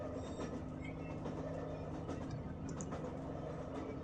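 A train rumbles steadily with continuous wheel and carriage noise, faint clicks and a light squeal, heard from inside, with no talk.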